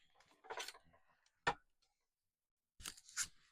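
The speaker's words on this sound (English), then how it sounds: "Scissors." Scissors cut paper close by: a few quiet crisp snips and rustles, with a sharp single snip in the middle and a pause before two more cuts.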